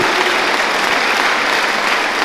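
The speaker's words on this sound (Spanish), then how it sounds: "Dale un aplauso al Señor por su palabra" Loud, close applause from a church congregation fills the space, a dense unbroken roar of many hands clapping at a steady level, with no voices over it.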